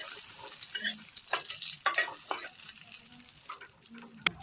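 Raisins frying in oil in a pan for pulao, a steady close sizzle broken by scattered clicks and scraping stirs, with no talking.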